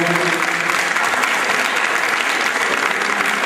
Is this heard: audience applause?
yes